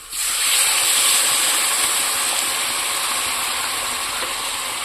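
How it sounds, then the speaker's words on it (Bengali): Water poured into a cooking pot on the stove: a loud, steady hissing rush that starts abruptly and holds evenly for several seconds, with no talk. "এবার আমি জল ঢেলে দিচ্ছি।"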